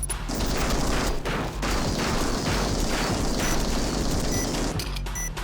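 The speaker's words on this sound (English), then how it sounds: "I'm just going to use the Gatling cannon." A Gatling cannon fires in the Rengoku video game: a loud, close, unbroken roar of rapid shots that holds for about five seconds, with brief dips in the stream.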